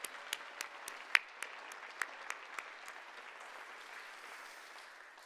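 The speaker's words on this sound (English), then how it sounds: "So let's give them a real round of applause." A round of applause from an audience at a civic foundation event, with a few distinct sharp claps standing out near the start over a soft, steady bed of clapping that carries on evenly.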